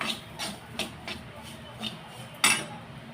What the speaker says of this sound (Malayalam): ഇച്ചിരി തേങ്ങ വറുക്കുക